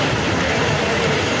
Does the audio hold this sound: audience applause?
no